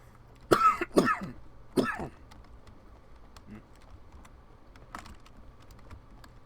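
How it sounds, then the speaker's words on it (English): A few rough throat clears and a short cough come close together near the start, then quiet room tone with faint soft clicks. "Clear my throat here."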